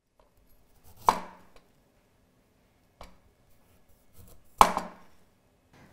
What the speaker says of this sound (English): once it's washed, we're going to go ahead and peel it.